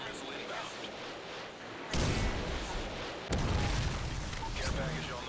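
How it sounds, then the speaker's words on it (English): A predator missile strike in the Call of Duty MW3 video game lands as two heavy, loud explosion booms in quick succession, each leaving a sustained rumbling roar, with a game voice heard beforehand. "Friendly predator missile inbound."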